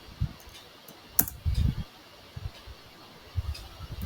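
A computer keyboard is typed on quietly during .NET software setup, giving a few sparse, soft keystroke clicks and thumps in a calm room with no talking.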